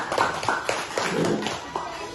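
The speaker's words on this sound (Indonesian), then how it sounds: "Oke, tepuk tangan dulu untuk kelompok 1." Classroom applause for a student group during a teaching practice lesson, a few scattered, uneven claps spread over a couple of seconds, fairly close and modest in volume, with faint voices underneath.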